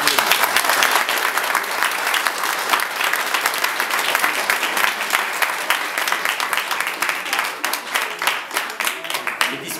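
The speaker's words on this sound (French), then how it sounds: "que je vous demande aussi d'applaudir" An audience at a Christmas afternoon show and snack party in La Mure-Argens breaks into sustained applause, dense and loud at first, then thinning into more distinct, separate claps toward the end.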